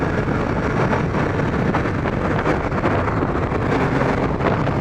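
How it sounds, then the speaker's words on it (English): Heavy, steady wind roar buffets the microphone while riding a Kawasaki ZX-12R motorcycle on a very windy day on a Maryland highway commute, loud and continuous with no voices. "I just hope we don't get blown off the bike, because it's very windy today."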